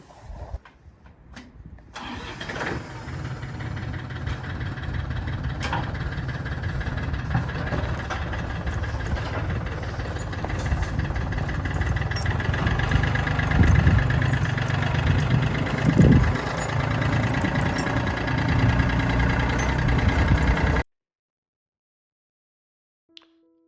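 A tractor engine runs steadily for about twenty seconds, a continuous low mechanical rumble with a rough idle character that swells slightly midway, close and loud with no talking, then cuts off abruptly into silence.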